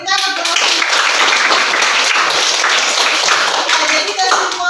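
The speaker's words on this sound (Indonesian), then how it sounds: "Ya, berikan aplaus." Classroom applause during a micro-teaching computer systems lesson, a dense steady burst of clapping hands lasting several seconds at full level, close and continuous with no talk over it.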